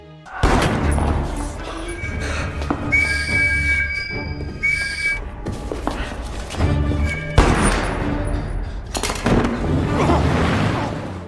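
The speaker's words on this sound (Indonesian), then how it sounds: "Baku tembak pun terjadi." A gunfire shootout against the Nazi police at a church in 1945, dense volleys of shots and metallic clatter over a loud rumbling backdrop, with a sharp burst near the end.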